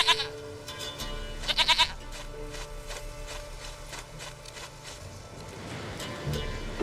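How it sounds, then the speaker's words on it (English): A goat bleats in The Witcher 3: Wild Hunt, several quick wavering cries in short bursts over soft game ambience, fairly close and clear. "Goat of mine, dearest, sweetest goat."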